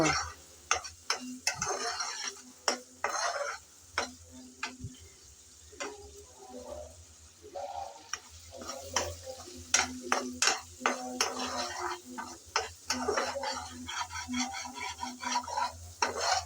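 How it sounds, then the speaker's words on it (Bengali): Tomato and green chilies fry and are stirred in a pan for a fish-oil recipe, giving a soft sizzle beneath repeated clacking scrapes of a spatula against the pan at an uneven rhythm. "এখন টমেটো আর কাঁচামরিচ একসাথে ভালো করে মিশিয়ে নেড়ে চেড়ে আবারও কিছুক্ষণ কষিয়ে নেব"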